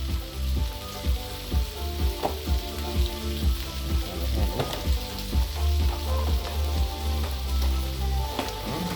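Beef burgers sizzle loudly on a barbecue grill, a steady crackling fry with sharp pops and scrapes of a spatula throughout, with no talking.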